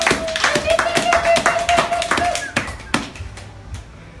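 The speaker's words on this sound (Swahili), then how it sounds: "Hebu pigia Bwana makofi makubwa." A church congregation at a Bible study and prayer meeting claps hard for the Lord, with sharp, rapid handclaps close by that thin out into scattered claps, while a voice briefly carries over them.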